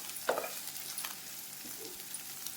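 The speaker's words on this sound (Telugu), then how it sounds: "ఇలా ఉల్లిపాయలు, పచ్చిమిరకాయలు బాగా ఫ్రై చేసుకోవాలండి." Chopped onions and green chillies fry quietly in hot oil, a soft continuous sizzle with a scrape of a stirring spoon near the start and a few faint clinks.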